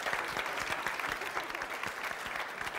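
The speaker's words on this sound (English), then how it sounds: "Give them a big round of applause." Studio audience applause on a television game show, a dense, steady wash of many hands clapping close and loud for about three seconds with no break.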